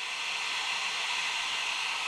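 A 1,000-watt hair dryer powered by an EcoFlow Delta portable solar generator at a cold mountain camp, giving a steady, loud airy whoosh with a high hiss that holds constant throughout, with no talking.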